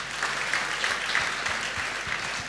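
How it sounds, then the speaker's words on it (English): Audience applause at the diocesan synod in Enugu following a speech, steady and dense clapping from a large gathering that holds level throughout. "Another round of applause."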